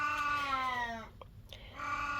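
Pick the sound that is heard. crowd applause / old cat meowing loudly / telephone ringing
old cat meowing loudly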